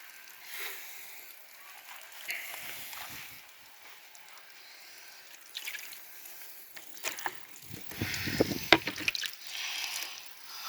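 Water is poured onto a matte-finished hydrofoil wing and runs straight off, giving close, soft trickling and dripping that builds into a louder splashy pour toward the end.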